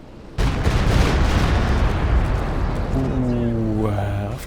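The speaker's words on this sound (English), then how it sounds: "Comes a walking Stuka barrage." A walking Stuka artillery barrage in Company of Heroes 2 erupts suddenly into a loud, sustained roar of overlapping blasts, with a voice talking over the rumbling din.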